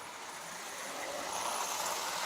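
An MTH standard gauge model train running on its track at about 9 volts gives a steady, faint rolling rumble and hiss that builds slightly, with no voices.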